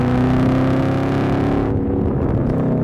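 Supercharged LT4 V8 in a Chevrolet Camaro ZL1 1LE on a canyon road, a loud, steady exhaust drone holding strong through the run before easing off partway, close and with no voices.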